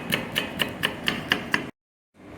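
Seven evenly spaced crisp knife strokes slice thinly through large onions on a cutting board, close and sharp, then a short silence before faint room sound returns.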